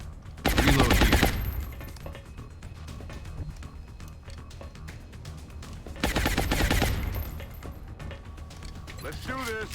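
Suppressive automatic gunfire from XCOM Long War, two loud bursts of rapid shots a few seconds apart amid mechanical clicks and game ambience, with a voice talking over it.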